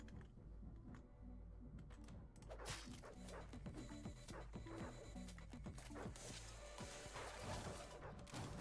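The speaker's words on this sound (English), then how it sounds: "And a dog." A dog barks in the Deadbolt video game, with repeated short yips and woofs mixed among busy game sounds and music throughout.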